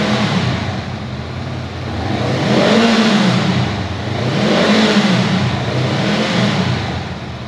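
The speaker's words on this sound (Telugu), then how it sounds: "ఎగ్జాస్ట్ నోట్ ఒకసారి వినేద్దాం దీన్ని" A Honda Rebel 500 motorcycle being revved while standing, its exhaust rising and falling in two or three smooth swells of a deep, refined rumble, loud and close with no voices over it.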